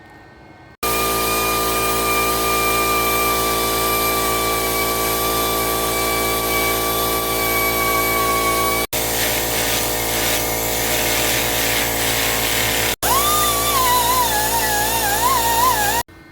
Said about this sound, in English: then we're going to grind that back to the height of the tab